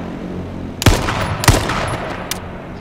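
Gunfire in the H1Z1 battle royale video game: two loud sharp shots about half a second apart with ringing tails, then a fainter crack, all up close and with no talking.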